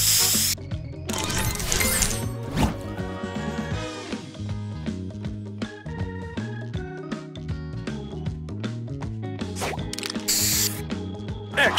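A Match Masters puzzle game spray booster firing, with hissing spray bursts at the start and end framing a long run of clinking, coin-like chimes and mechanical clicks, loud and dense without speech.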